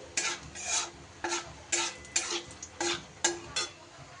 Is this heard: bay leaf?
yes